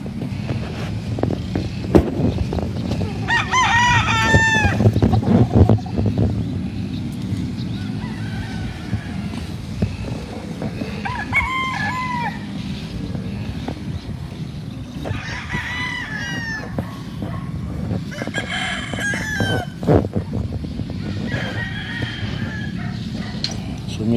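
Chickens cluck and a rooster crows on a rainy-season farm in the Philippines, several crowing bursts repeating through a steady backdrop of clucking and low rumbling farm noise, fairly close.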